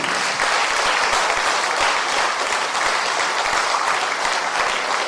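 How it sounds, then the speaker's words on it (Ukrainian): Dense, sustained applause fills a church gathering marking the 100th anniversary of Patriarch Lubachivsky's birth, a steady wash of many hands clapping with no break and no speech. "Аплодуємо їм."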